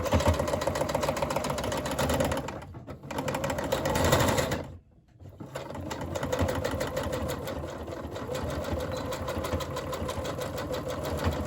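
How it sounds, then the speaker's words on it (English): A sewing machine runs close and loud, stitching a fleece cap with a few reverse stitches, its steady motor whir broken by a brief pause midway before continuing. "Now I'm going to stitch on this side, which is on the wrong side."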